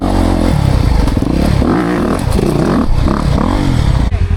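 Polaris off-road vehicle engine droning and revving loudly and continuously as it climbs steep ground and hops a downed log, with clattering and scraping from the chassis throughout.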